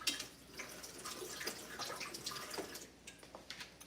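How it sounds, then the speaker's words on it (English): Tap water runs and splashes over a kitchen knife being rinsed at a sink, a steady close wash of water that thins into scattered drips toward the end. "Let me rinse off my knife."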